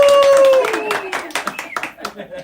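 Scattered clapping from a small group welcoming a guest, a handful of sharp, uneven claps under a loud voice, thinning out over a couple of seconds.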